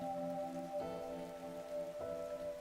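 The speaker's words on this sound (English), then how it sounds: "A gust of lukewarm wind blew past her, and heavy droplets of rain began to fall" Steady night rain from the video game Fantasian Neo Dimension, a soft, even hiss of falling drops under sustained gentle musical tones that shift twice, with no voices.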